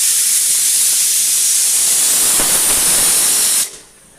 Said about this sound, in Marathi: फायनली पहिली शिट्टी झाली आहे.